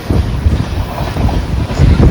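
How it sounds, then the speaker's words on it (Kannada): Wodeyar Superfast Express running from Mysuru Junction to KSR Bengaluru rushes past in the opposite direction at high speed, a loud, steady, wind-like roar heard from aboard a passenger train. "ನಿಮಗೆ ಜಿಂಗ್ ಆಗ್ತಾ ಇರೋದು ಅಪೋಸಿಟ್ ಬರ್ತಾ ಇರೋದು ಒಡೆಯರ್ ಸೂಪರ್ ಫಾಸ್ಟ್ ಎಕ್ಸ್ಪ್ರೆಸ್"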